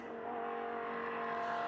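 Porsche Cup race cars battle on track at Mugello in a Trofeo GT Sprint race, a high, steady multi-tone engine whine holding at full throttle and slowly growing louder.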